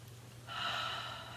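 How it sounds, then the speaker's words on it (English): One deep breath is drawn in through cupped hands scented with lavender, a soft airy inhale that starts partway through and holds steady, quiet and close. "take a deep breath in and hold it a bit"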